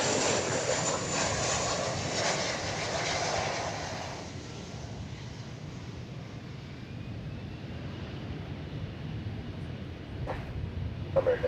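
An American Airlines jet departing Dallas Fort Worth Airport roars steadily at a distance, a broad engine rumble that eases slightly and holds, with brief clicks near the end.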